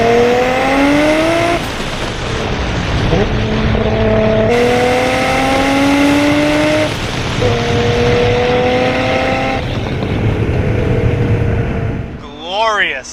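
A modified 1995 Nissan Skyline R33 GT-R inline six-cylinder engine pulls hard through rising gears, loud and close from inside the cabin, with a sharp shift gap and a brief squeal at the end while occupants talk over it.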